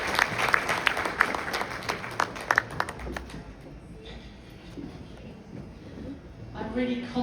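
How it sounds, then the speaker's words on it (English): An audience at a gathering of Ugandan nurses and midwives gives scattered applause, with sharp individual claps at first that thin out, then a murmur of voices and some talking near the end. "Can we give a round of applause as she comes up?"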